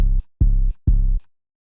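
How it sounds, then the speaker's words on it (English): Redesigned Spinz 808 bass in FL Studio with reverse polarity delivers three deep, booming bass notes of short length, each cut off cleanly, with silence between and after. "the new, I guess, designed 808 sounds like this."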